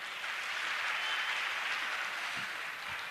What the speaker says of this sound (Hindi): आप लोग बहुत जोरदार ढंग से तालियां बजाते रहिएगा